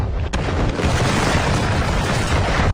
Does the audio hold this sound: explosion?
yes